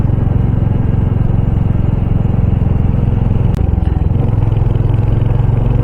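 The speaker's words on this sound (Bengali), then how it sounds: "Engine on." A motorcycle engine, push-started after its battery went flat on a forest ride, runs close and loud with a steady low throbbing rumble and some rattling clatter, plus a brief sharp click midway.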